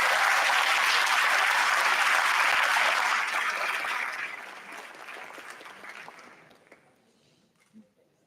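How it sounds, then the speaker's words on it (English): Warm applause from an audience at an Arangetram dance recital, honoring the evening's emcee; dense clapping holds steady for about three seconds, then thins and fades out toward the end, with no one talking over it. "one round of applause for Miss Shiny"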